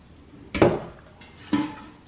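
The metal basket of a Bagotte Air Fryer XL 5QT is handled. It gives three short, close clanks and rattles spaced about a second apart, with quiet between them.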